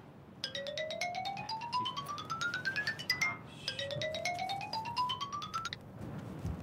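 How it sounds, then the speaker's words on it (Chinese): An incoming call's phone ringtone plays a rising electronic melody twice in a row, clear and fairly close over a quiet room. "小雨的电话，什么事儿啊？"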